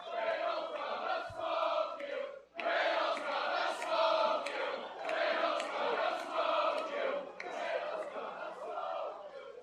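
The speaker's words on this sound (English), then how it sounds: "the crowd is chanting, "Riddle's gonna smoke you."" A wrestling crowd chanting in a large arena, the rhythmic group shouts rising and falling in repeated phrases with a brief break partway, heard from a distance with no talk over it.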